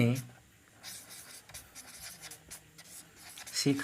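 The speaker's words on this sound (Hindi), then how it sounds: "तो लिखते हैं" Chalk or marker writing on a board in a Hindi-medium English grammar lesson, heard as a steady scratching stroke rhythm running under a teacher's close voice.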